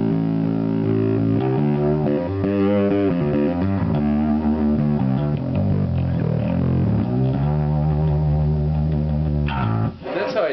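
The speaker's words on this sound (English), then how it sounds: "the active bass can start to push that a little bit much out of a nice warm distortion" A loud, thick, fuzzy distorted bass riff from an active Stingray bass through an OX fuzz pedal, playing continuous notes, with a brief scrape and pause near the end.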